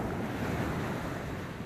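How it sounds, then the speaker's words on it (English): Ocean waves and surf rush continuously during a fishing outing, a dense, steady wash of water with wind buffeting the microphone, close and fairly loud with no talking. "Enjoy the ocean for a sec."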